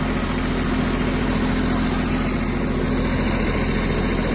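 A Kubota GB-180 Japanese mini tractor's engine idles steadily and close by, a continuous low hum with an even running tone throughout, with no one speaking.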